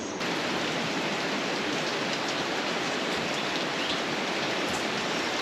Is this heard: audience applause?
no